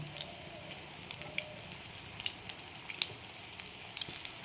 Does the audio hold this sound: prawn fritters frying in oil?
yes